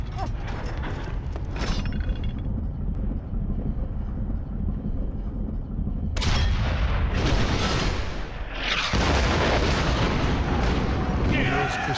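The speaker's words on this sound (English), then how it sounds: "Emil's precision cannon firing enabled Freddy and his regiment to reach the rear line unharmed" Cannon artillery fire in the World War I game Valiant Hearts: The Great War, heavy booms and rumbling bursts that drop away midway, then return loud and dense.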